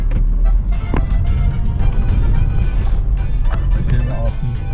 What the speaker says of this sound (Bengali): সিঙ্গাপুরের প্রেসিডেন্ট গেল। দেখেন প্রোটোকল খুব বেশি না, কিন্তু কয়েকটি মোটরসাইকেল, 2টি গাড়ি অনলি।